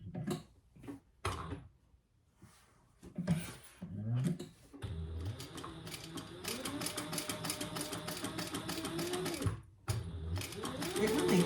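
A hand-cranked sewing machine stitches a crossbody bag, starting with a few short bursts and clunks, then running in a steady rapid rhythmic chatter for several seconds, pausing briefly and resuming.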